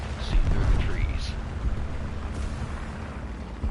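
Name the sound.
explosion in War Thunder video game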